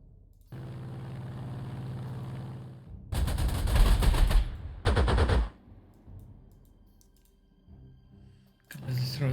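A flak anti-aircraft gun opens fire on a fighter in Panzer Corps 2, two loud, harsh bursts of rapid shots after a steady droning hum, with a further burst starting at the end.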